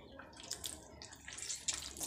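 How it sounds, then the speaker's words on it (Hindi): Water is poured into tamarind pulp in a kitchen, giving a close, soft splashing and trickling with a few brighter splashes over about two seconds. "1 कप पानी और डाल रही हूँ मैं, और इसे फिर से ऐसे मसल लेंगे"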